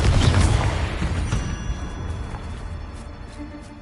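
A Confringo blasting spell explodes in the Hogwarts Legacy video game: a loud, close burst at the start that decays into a long, rumbling tail.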